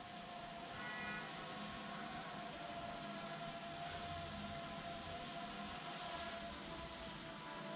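A DJI Mavic Air drone flies outdoors, giving off a steady, fairly loud buzzing whine with a high motor tone that holds for the whole stretch, with no talking.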